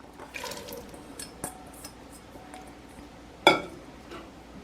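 Diced peeled potatoes tipped into a pot of seafood sourdough chowder and stirred, with a faint wet slosh, soft knocks and one sharp clack of a utensil against the pot, close and fairly quiet.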